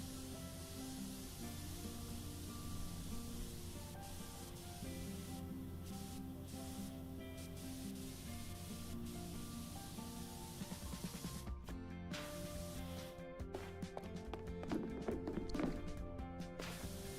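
Pressure washer water spray in the video game PowerWash Simulator, a constant hissing jet running under steady game music for the whole stretch, turning choppier with sharp clicks and bursts in the last few seconds.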